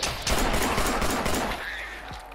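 Burst of rapid gunfire in the Fallout 4 VR video game, dense overlapping shots filling the clip before tapering off into quieter rumble.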